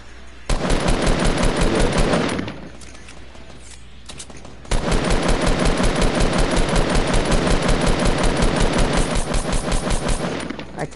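Sustained automatic gunfire from a Fortnite match: a loud, rapid burst of shots for about two seconds, a brief lull, then a long unbroken stream of rounds lasting roughly six seconds, with no talking.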